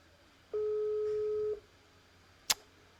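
A single one-second telephone tone on a rejected call, followed by a brief sharp click as the line cuts off, heard clearly against a quiet background.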